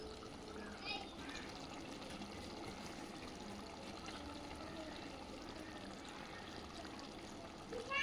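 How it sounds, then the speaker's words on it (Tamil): Water pours into a pot of chicken gravy in a home kitchen, a soft, steady, continuous trickle at low level that runs through the whole stretch. "இப்போ நம்ம தேவையான அளவுக்கு தண்ணி ஊற்றிக்கலாம்"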